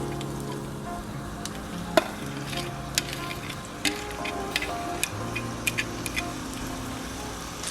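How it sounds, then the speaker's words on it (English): Sausage and onions sizzle in hot oil in a frying pan, a steady close crackle with occasional sharp pops and light stirring clicks, no voices. "now I'm going to add my sausage and onions."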